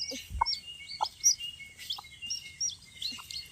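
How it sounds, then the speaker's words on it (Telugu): Newly hatched chicks peep in short, high, repeated chirps, close by and fairly clear, with an occasional lower cluck from the hen beneath them. "ముద్దు ముద్దుగా పిల్లలు చాలా బాగున్నాయి అన్నమాట మా కోడి పిల్లలు ఎలా ఉన్నాయో"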